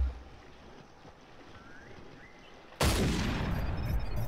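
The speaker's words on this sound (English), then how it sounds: "first we want to see if we can't get this big whitetail with the 338 bolt action rifle" A single loud .338 bolt-action rifle shot rings out in the Cabela's Big Game Hunter hunting game after a quiet outdoor ambience, the blast sharp and sustained with a long rolling decay.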